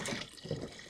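Water being emptied out of a soft flexi tub used as a makeshift garden dip tank for watering cans, a continuous splashing, pouring wash up close with no talk.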